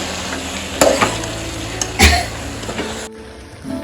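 Ground spicy masala frying in a pan for menthya pulav, stirred with a few distinct scraping strokes over a continuous close sizzle, then quieter at the end.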